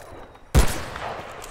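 A single sharp, loud gunshot with a lingering decay from Battlefield Bad Company 2, preceded by a quiet lull.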